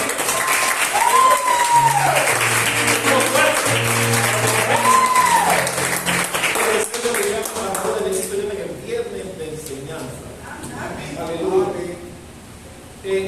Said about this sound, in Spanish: ¿Qué me da un fuerte aplauso a Dios?